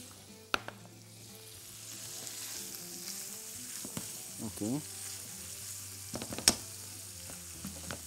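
Onions sizzle softly in a hot pan, making a low, steady frying hiss with a few stirring clatters and a sharp tap, and a voice speaks briefly near the start.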